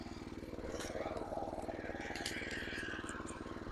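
A Baliraja rotary weeder's small engine runs steadily after starting, a close, even motorcycle-like putter that holds through the whole stretch, with faint scrapes and no talk.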